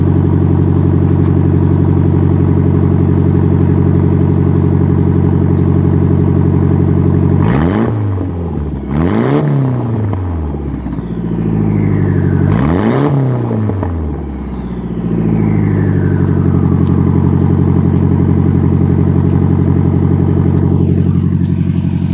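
Nissan SR20DET turbo four-cylinder idling steadily through worn blast-pipe exhaust, close and loud, with three sharp throttle blips that rise and fall before settling back to a rumbling idle.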